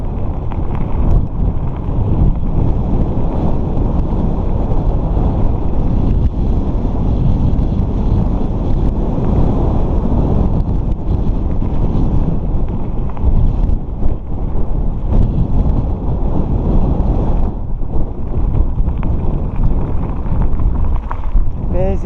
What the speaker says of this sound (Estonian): Tuul on tõusnud.